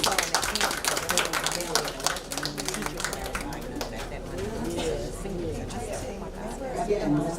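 Audience applause after a talk at a DPAC meeting, a dense steady patter of many hands clapping throughout, with voices chattering underneath.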